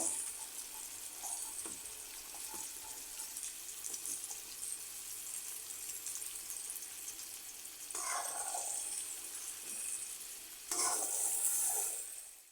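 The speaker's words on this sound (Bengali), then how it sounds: "কলা বাজাটা দিয়ে দিলাম আবার এইভাবে মশলার সাথে একসাথে কষিয়ে নেব" Raw green banana pieces stir-fried with spice paste for a vegetarian Bengali potato-and-banana dish, giving a steady close sizzle with scraping stirs that grows louder and brighter near the end, no voices.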